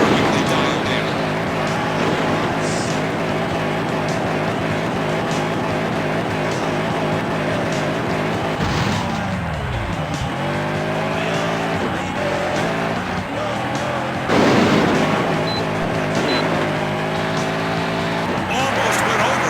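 The Bulldozer monster truck roars through a freestyle run in the Monster Jam Path of Destruction video game at Orlando, with loud revving, pitch swoops and tire squeal, while a commentator talks over it.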